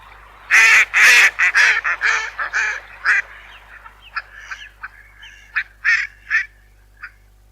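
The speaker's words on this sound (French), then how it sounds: "les canards" Cartoon ducks on a river in a Noddy (Oui-Oui) cartoon give a run of loud, nasal honking quacks, bunched closely at first and then thinning into scattered single calls, with no talk over them.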